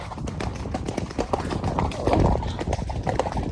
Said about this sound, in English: so we're cantering